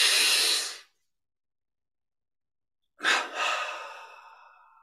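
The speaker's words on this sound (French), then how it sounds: "Les respirations triangulaires qui sont encore un moyen d'élever la conscience." Breathing exercise during meditation: one breathy exhale fades out, followed by two seconds of silence, then a sharp, close inhalation that swells and trails off into a long airy breath.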